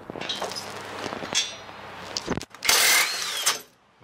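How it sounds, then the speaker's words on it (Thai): An OSUKA OSID-520 cordless impact wrench removes TV wall mount bolts fitted over ten years earlier. Light clinks lead into a loud, close, sustained hammering burst of about a second near the end, then the sound cuts off. "ใช้งานง่ายนะครับด้วยบล็อกไฟฟ้าไร้สายโอซุกะ"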